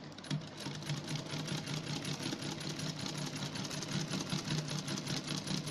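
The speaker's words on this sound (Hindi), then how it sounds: "अब मैं मशीन की सिलाई लगाऊंगी।" A sewing machine runs steadily, stitching a piped loop neckline on a kameez, with a fast even mechanical chatter throughout and no voices.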